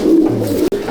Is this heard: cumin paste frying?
no